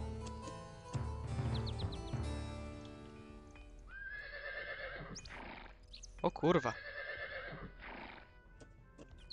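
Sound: horses neighing in video game Cossacks 3

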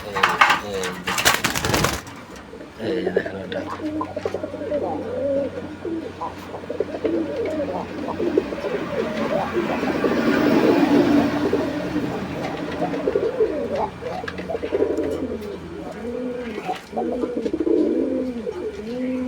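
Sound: pigeons cooing

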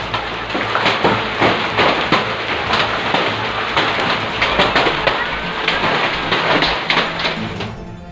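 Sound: heavy rain and hailstorm with thunder

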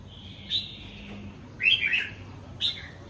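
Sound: pet birds chirping in cages

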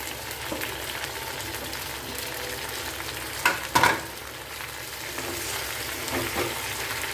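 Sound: onions and tomatoes sautéing in a pan

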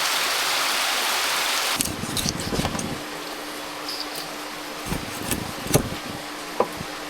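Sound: heavy rain falling outside

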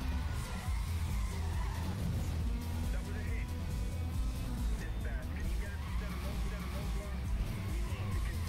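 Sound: car drifting with tire squeal in Need for Speed Most Wanted video game

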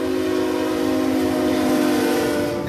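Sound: freight train horn

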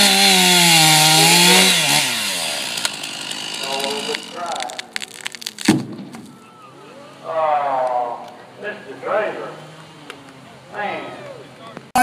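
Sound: saw cutting a disc off the end of a log, timber sports competition

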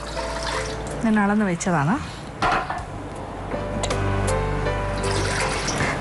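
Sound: water poured into a hot pot for prawn rice

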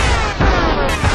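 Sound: gunshots in a video game

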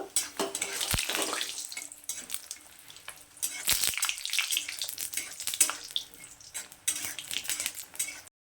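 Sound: frying lentil dumplings (bori) in hot mustard oil

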